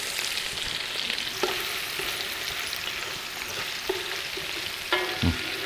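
Green chilies, mint and coriander frying in a pan for nonbu kanji, a steady close sizzle broken by a few stirring knocks, with no talking.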